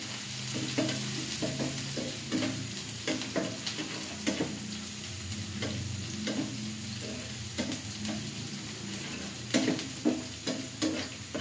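Onion, garlic and dried chillies fry in a pan, giving a steady sizzle with repeated stirring strokes and soft scrapes at an uneven rhythm.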